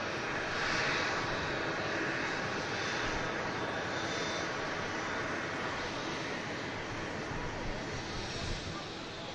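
An Air France Airbus A220 airliner at Manchester Airport sends out a continuous, fairly distant jet engine roar that holds steady across the whole stretch.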